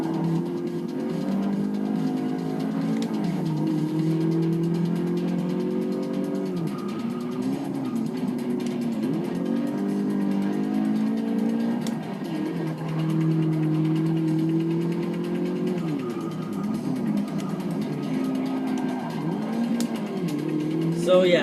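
A Porsche engine in the Forza 6 racing game, heard from the cockpit during a track race, drones and rises and falls with gear changes throughout, with someone talking over it.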